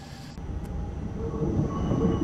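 A train runs in Train Simulator 2022 with a steady low rumble and a rolling clatter, and thin squealing wheel tones rise and hold above it, growing slightly louder toward the end.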